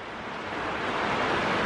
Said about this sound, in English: The rain on the barn gets loud.